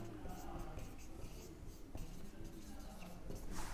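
Handwriting with a pen on paper, soft continuous scratching strokes close by, with a faint murmur of background noise.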